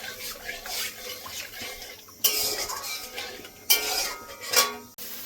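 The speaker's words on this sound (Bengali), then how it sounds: "জল দিয়ে দেবো, আরো কিছুক্ষণ ভেজে নেব।" Spices including cumin powder and turmeric being stirred and fried in a pan for a vegetarian Bengali taro curry, with clinking and scraping of the utensil against the pan and sharp sizzling bursts as water is added.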